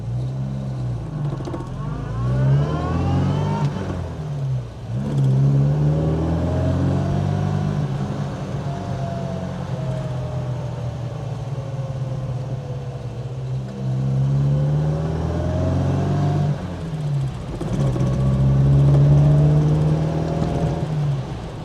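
A 1960s Sunbeam Rapier Mk III saloon accelerating on the road, engine pitch rising and dropping with each upshift into fourth gear, loud and steady with a whirring drivetrain beneath.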